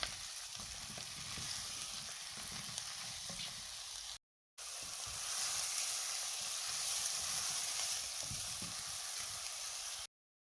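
Mushrooms cooking in a pan over medium heat for braised rabbit give off a steady, close, bright sizzle and hiss, broken by a brief gap of silence before the frying resumes just as strongly.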